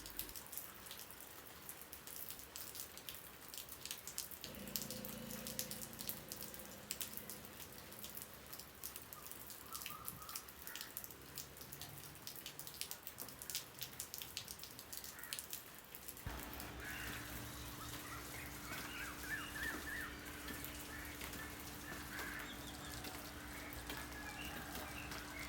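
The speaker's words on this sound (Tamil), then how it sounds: "அதுக்கு பிறகு ஃபுல்லுமே மழை தான்" Steady rain falling around a house, a dense continuous patter of drops on surfaces, with a faint low hum coming and going and occasional distant crow calls.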